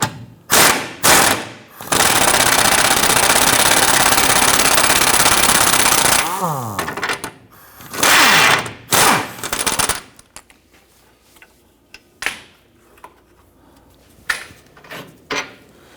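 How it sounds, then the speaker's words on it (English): A control arm bolt and nut on a 2017-2020 Hyundai Elantra worked loose with a 19mm boxed end wrench: a long, loud buzzing burst with ratchety bursts before and after it, then scattered faint metallic clicks and knocks. "Secure that nut and then remove this bolt."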